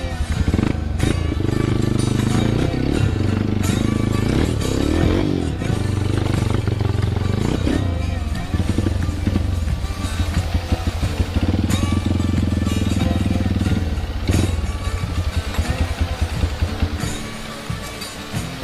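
A motorbike engine runs steadily and loudly close by near the Ngelyangan waterfall, a continuous rumble with small surges in pitch and a faint voice underneath.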